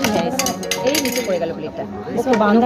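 Plates clink and rattle as they are cleaned and served with rice, dal, fried potato and chicken curry, close by and continuous, under steady overlapping talk.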